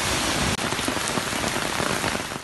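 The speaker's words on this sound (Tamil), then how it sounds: "நாட்டின் பல்வேறு பகுதிகளில் பலத்த காற்றுடன் கடும் மழை பெய்து வருகின்ற நிலையில்" Heavy rain driven by strong wind pours down in a dense, steady roar, loud and close throughout, with no voices.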